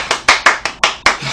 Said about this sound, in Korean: 이건 박수 한번 줍시다. 진짜 기립박수감이에요. 박수!